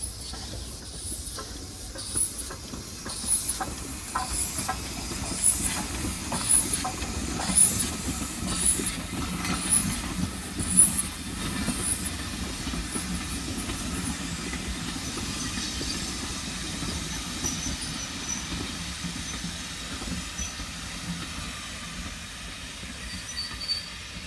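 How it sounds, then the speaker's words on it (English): A steam locomotive running backwards on the Isle of Wight passes at moderate distance with rhythmic chuffing and hissing steam, fading into a steady rumble of rolling wagons. "Here comes the steam engine. It's going backwards this time."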